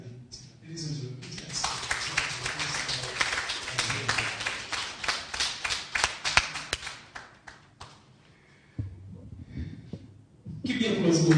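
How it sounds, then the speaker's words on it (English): An audience claps at a police credit union scholarship foundation launch, a sparse scatter of sharp hand claps over several seconds, with talking before and after. "keep the applause going, please"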